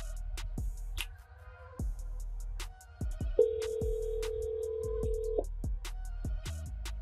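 An outgoing phone call to a wholesale real estate contact rings while waiting for an answer, with a long steady ring tone between soft clicks and light tapping, close and alone with no talking.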